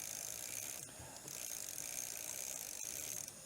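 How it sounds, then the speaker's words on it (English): A FLIT-16 chain is turned backwards while degreaser is sprayed onto it, giving a continuous close ratcheting, clicking rattle with a hissing spray over it, steady throughout with brief dips. "you just want to spray the degreaser while rotating the chain backwards."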